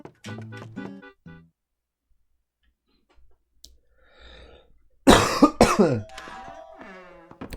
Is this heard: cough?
yes